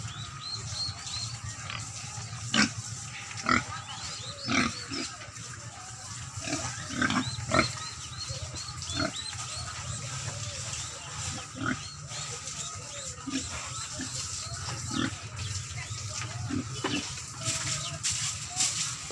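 Pigs in a pig pen grunting and snorting in short irregular bursts over nearly twenty seconds, with chickens clucking faintly in the background and a low steady farmyard hum.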